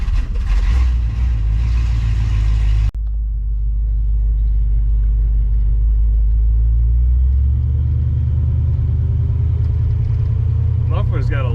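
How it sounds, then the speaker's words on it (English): A 1980 Pontiac Trans Am with a swapped-in 400 engine rumbles through its muffler, a loud deep idle grumble that drops briefly, then settles into a steady low throb with a rising whine toward the end. "Muffler's got a little bit of a grumble, but I don't know if I like the grumble."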